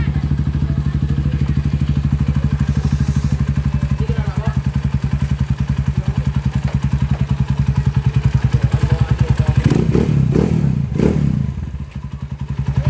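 Motorcycle engine, a TMX155 with a 200cc conversion, idling loud and close with a steady fast thumping pulse, revving briefly near the end while people shout and react over it.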